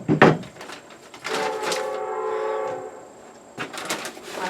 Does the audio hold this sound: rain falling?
no